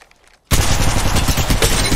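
Sustained rapid gunfire erupts in an Apex Legends Mobile match after near-silence, a loud, dense burst of repeated shots that continues without a break.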